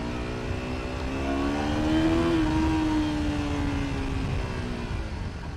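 A Honda VTR250 Interceptor motorcycle engine revs hard toward 8,000–9,000 rpm, a steady, close, buzzing drone whose pitch climbs, holds near the peak and then eases off, heard alone.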